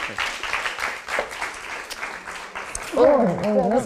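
Applause fills the first few seconds, then a person begins talking as the clapping fades beneath the voice.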